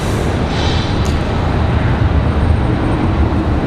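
A JetBlue airliner bound for JFK departs Raleigh-Durham International, its broad, steady engine roar loud and continuous with no voices over it.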